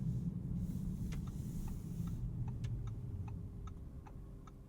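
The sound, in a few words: car turn signal ticking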